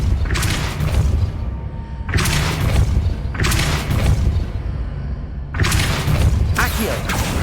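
Depulso force spell impacts in the video game Hogwarts Legacy land as four heavy, booming bursts at regular intervals, each a loud thudding blast with a crackling tail, over continuous game ambience.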